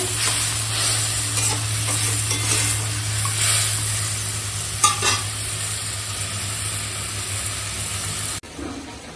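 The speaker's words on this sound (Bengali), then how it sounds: "ভেজে রাখা মাছ দিয়ে দিলাম দিয়ে এখন রান্না হবে" Previously fried fish simmers in a spicy oil gravy with turmeric and salt, a dense continuous sizzle and hiss close by with one brief clack of a utensil midway.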